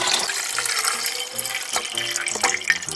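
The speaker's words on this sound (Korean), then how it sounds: "고추지 물을 쪼르륵 따라주세요." Brine from salted pickled yellow peppers poured in a steady trickling stream, close and fairly loud, with some clinks of the container throughout.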